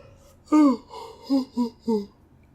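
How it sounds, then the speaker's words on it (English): A man gives a drawn-out, voiced yawn with a gasping intake, then several shorter moaning exhalations trailing off, close to the microphone and alone without other talk. "apologies for yawning"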